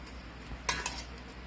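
Utensils stirring kimchi paste in a bowl make a brief cluster of light scraping and clinking sounds against a quiet background hum.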